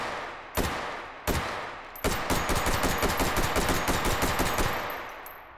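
Gunfire in a Hot Dogs, Horseshoes & Hand Grenades VR range at hot dog targets: two loud single shots, then a rapid sustained burst of close, sharp reports.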